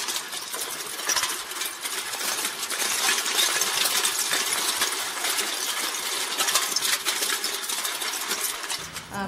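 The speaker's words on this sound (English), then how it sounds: "our sound clip of the bottles and cans dropping down the tube" Continuous clattering rattle of bottles and cans tumbling down a tube and clinking against each other, dense and steady throughout, with a brief quieter moment near the end.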